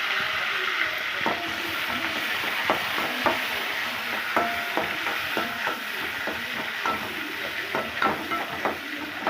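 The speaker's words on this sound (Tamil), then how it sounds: "நல்லா வதக்கிக்கலாம்." Onion, green chili, curry leaves and mint fry in a pan for an egg curry, giving a steady sizzle broken by many sharp, close scrapes and taps of a spoon stirring, with no voices.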